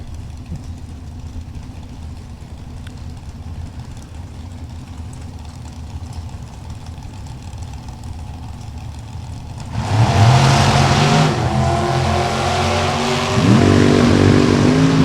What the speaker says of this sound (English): Jeremy getting set here in his 1988 full-bodied Corvette